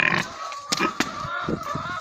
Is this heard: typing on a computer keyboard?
no